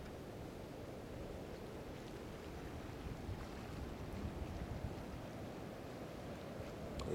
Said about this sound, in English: You hear the waves breaking about a mile out to sea.